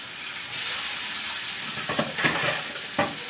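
Mackerel pieces fry in a pan over the flame, giving a steady, fairly quiet sizzling hiss broken by a few sharp spits and pops toward the end.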